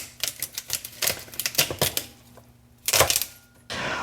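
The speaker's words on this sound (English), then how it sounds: "I've cut my asparagus spears" A knife chops asparagus spears on a cutting board: quick, close, crisp taps in irregular bursts, with a short pause before a louder final cluster of cuts, no talking.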